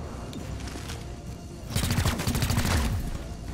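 Gunfire in XCOM Chimera Squad, a fast volley of shots that kicks in partway through and keeps rattling loudly over a lower background of game sound.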